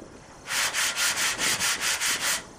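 Steady back-and-forth sanding strokes on body filler over a car panel, about nine rhythmic rasping passes, loud and close with no talking.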